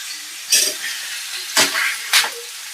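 Food sautéing in a pan at home, three sharp sizzling bursts as ingredients hit or are stirred in the hot oil, with quieter hissing between them and no talk.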